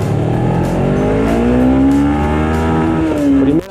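A Suzuki V-Strom 250 motorcycle accelerates hard from a standstill toward 100, its engine note climbing steadily and loudly through the gears, with a brief dip near the end as it shifts.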